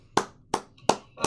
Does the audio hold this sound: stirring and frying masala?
no